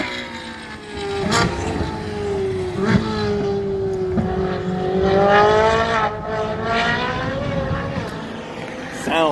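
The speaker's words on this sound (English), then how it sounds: "Car is screaming." A high-revving Corvette C6 Z06 engine screams past at full throttle on a racetrack, its pitch rising and falling through gear changes, loud and sustained throughout.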